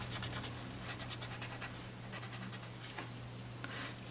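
A curled-up piece of paper used as a tortillon rubs and blends a pencil drawing, producing soft, continuous scratchy strokes close up with a faint steady hum underneath.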